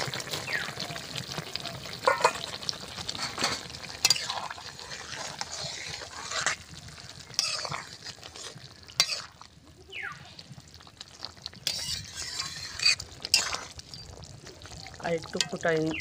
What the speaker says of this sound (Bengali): সোয়াবিনের ঝোলটা ফুটে গেছে, দিয়ে দেবো চিংড়ি মাছ।